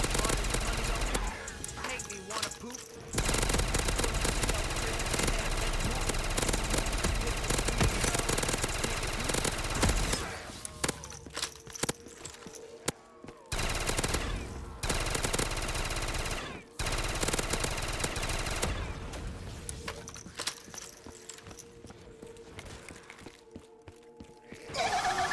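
The Mystical Redeemer gun fires in the video game MimiCube 2, with dense, loud sustained bursts of rapid gunfire that break off and resume several times.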